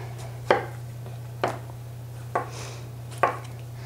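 A kitchen knife chops tomato and jalapeños on a cutting board for fresh salsa. Four separate, crisp chops land about a second apart over a low steady hum, with no talking.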